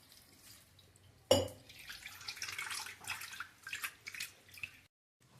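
Water runs and splashes steadily through a strainer rinsing flattened rice (poha) after a sudden splash, a close, continuous wet rushing sound that fluctuates before cutting off near the end.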